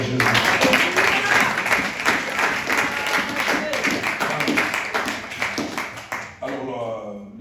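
A church congregation applauds Jesus during a sermon, a steady stretch of loud, dense clapping that runs for several seconds with voices calling out over it, then thins out near the end.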